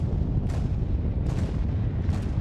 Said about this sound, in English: How the fuck is this ship firing guns?